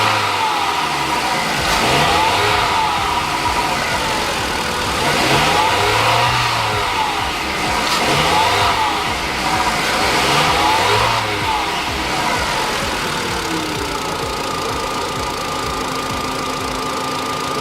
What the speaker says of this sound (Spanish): Vamos a acelerar.